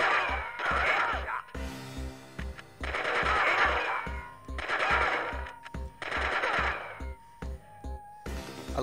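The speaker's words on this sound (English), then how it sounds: "What is this? Your machine gun?" Machine gun fire from a GTA arcade mode, repeated bursts of rapid, punchy automatic shots in several clusters over several seconds, close and loud, with short gaps and game sounds between.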